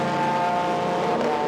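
Lamborghini GT race car at Silverstone in a Masters GT Trophy race, a loud sustained engine drone with steady tonal whine, close and unbroken for the whole moment.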